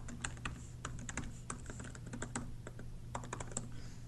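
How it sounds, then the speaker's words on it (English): Fingers type a web address on a computer keyboard in quick, uneven bursts of soft, close key clicks over a low steady hum, with no talking. "just type facebook.com/ads manager in your search bar"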